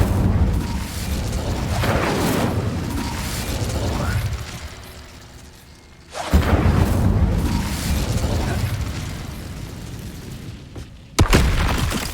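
Incendio fire spell cast in Hogwarts Legacy, heard as two loud whooshing bursts with a pop, the second cutting in sharply after a brief lull, followed by a short sharp burst near the end.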